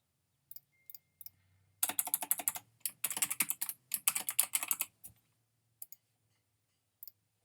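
Rapid clicking keystrokes on a computer keyboard come in short bursts, close and fairly quiet, with a few isolated taps before and after the main flurry of typing.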